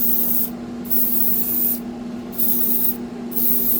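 An airbrush sprays paint into a newly built spray booth, giving hissing bursts that come and go in three or four pulses over a steady fan hum.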